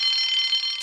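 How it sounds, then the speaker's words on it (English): A shrill electric alarm bell ringing continuously, loud and close, with a harsh metallic buzz held for the whole moment. "Soon came the alarm."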